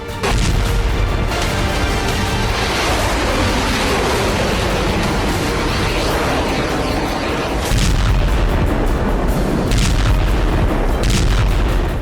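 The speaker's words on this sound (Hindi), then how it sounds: "किम जोंग का वो धमाका" A loud, sustained rumbling explosion with heavy low boom and roaring noise filling the whole stretch, no voices.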